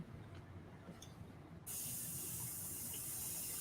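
A steady, broadband hiss of an airbrush spraying paint starts abruptly partway through and continues, following a quieter stretch of low room noise.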